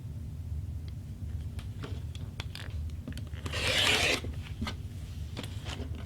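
Rotary cutter slicing a 2.5-inch strip of quilting fabric, a brief dry rasping swipe that swells loud for about a second over a steady low room hum, with a few faint handling scratches before and after.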